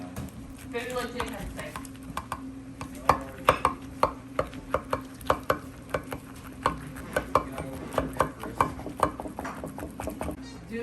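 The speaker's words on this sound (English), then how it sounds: "So now we're going to cut the bone off and start slicing it" A knife cutting the bone off a prime rib roast and slicing the meat on a board, producing a steady series of close, sharp taps and thuds, with faint background voices.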